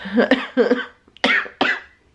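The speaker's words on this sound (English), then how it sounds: "I'm gonna stop talking because I'm gonna start coughing." Someone sick with the flu coughs in two harsh clusters of quick coughs, with a short throat sound between them, close and clear with no talking.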